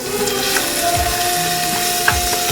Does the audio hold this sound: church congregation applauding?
no